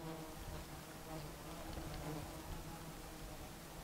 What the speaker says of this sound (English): The bugs are crazy around here.